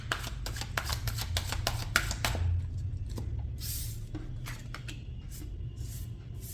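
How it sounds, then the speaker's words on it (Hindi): Tarot cards are shuffled by hand in a close, steady run of crisp riffling snaps and soft papery slides over a low background hum, with no talking. "जब तक मैं कार्ड शफल कर रही हूँ"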